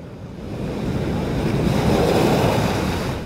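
High surf at high tide crashes onto the shore, a loud, continuous roar of breaking ocean waves with a swelling surge and wind rumble, heard close with no voices.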